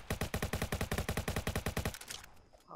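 A rapid burst of automatic gunfire in the Roblox Jailbreak video game, about twenty evenly spaced loud shots in under two seconds, then trailing off into quieter game sounds.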